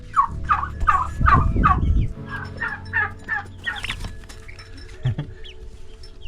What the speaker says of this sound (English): it is a turkey boy, a little baby Tom